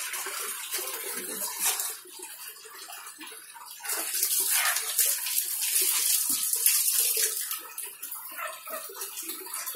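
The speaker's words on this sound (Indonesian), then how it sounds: "Cuci tangan dulu." Running water splashes over hands being washed, a loud, continuous close-up gush that shifts and swells as the hands move under the stream.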